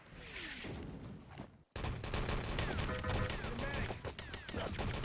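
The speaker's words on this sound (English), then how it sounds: "Oh, the artillery from Blades" Artillery strike in the video game Enemy Territory during a competitive match: a dense, loud barrage of blasts and rapid gunfire crackle that bursts in after a brief silent gap and keeps rumbling to the end.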